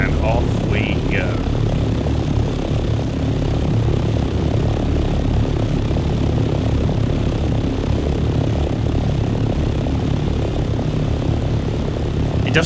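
An aircraft in the video game Dune Awakening speeds up and climbs, its engine producing a steady, dense droning roar that holds constant throughout with a few brief tonal blips near the start.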